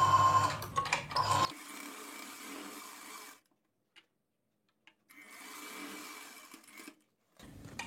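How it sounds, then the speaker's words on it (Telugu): A sewing machine stitches a one-piece umbrella kurti up to the armpit, whirring in two steady close runs split by a brief silence, with no voices. "కలుపుకొని చంక వరకు కుట్టేసుకోవాలి."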